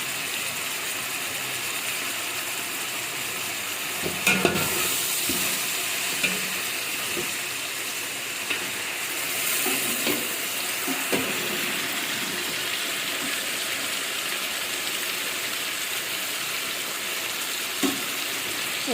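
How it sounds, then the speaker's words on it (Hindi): Chicken meat pieces sizzle steadily in spiced masala, with occasional stirring knocks and scrapes against the pot; the frying stays loud and continuous throughout, with no talk. "गोश्त को हम अच्छे तरीके से भून लेते हैं।"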